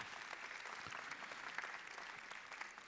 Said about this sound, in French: je vous demande de bien vouloir saluer par vos applaudissements nourris